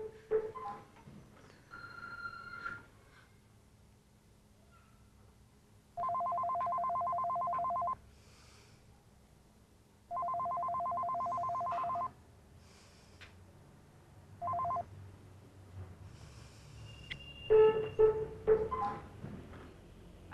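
A telephone rings in two long electronic bursts and a short third one, amid quiet room noise and faint breathy sounds.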